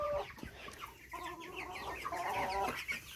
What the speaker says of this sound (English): These Cornish cross chickens grow very, very, very fast.